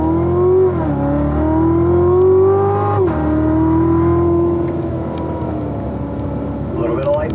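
Car lapping a race track, its engine loud and close as it climbs in pitch through the gears, dropping sharply at a shift and then pulling on steadily. A voice speaks over it.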